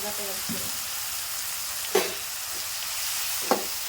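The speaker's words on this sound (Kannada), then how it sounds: "ಇದೆಲ್ಲ ಹಾಕೊಂಡಿವಾಗ ಎಣ್ಣೆವಾಗ ಫ್ರೈ ಆಗುತ್ತೆ ಖಾರ ಉಪ್ಪು ಟೊಮೆಟೊ ಹಣ್ಣಿನ ಜೊತೆ ಫ್ರೈ ಆಗುತ್ತೆ" Drumstick pods fry in oil with chilli powder, salt, garam masala and tomato, Kalaburagi hotel style, giving a steady soft sizzle with a few stirring scrapes.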